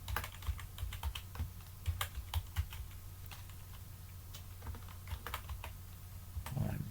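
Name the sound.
typing a password on a computer keyboard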